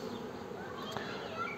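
Honey bees of a steppe breed buzz steadily at an apiary, a continuous close swarm drone with no speech over it.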